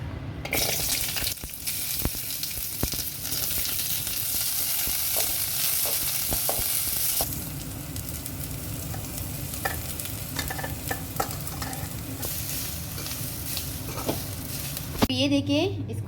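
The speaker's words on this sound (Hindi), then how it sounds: "तो अब इन सारी चीज़ों को ना हमें फ्राई करना है।" Green chilies and masala ingredients for a soya chunk curry fry in a pan, a steady loud sizzle with stirring scrapes throughout, changing briefly near the end as something is moved.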